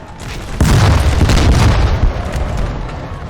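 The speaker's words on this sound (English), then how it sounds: "Artillery manning their guns, though. We'll see what this Grand Battery can do." Artillery cannon fire from a grand battery in the Napoleon Total War video game, with a loud, deep boom that rolls into a sustained rumbling barrage, close and heavy, no talking.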